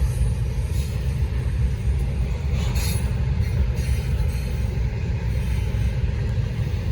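A heavy Norfolk Southern freight train rolls past close by, a steady loud rumble of wheels and cars with occasional high metallic squeals as brakes begin to engage.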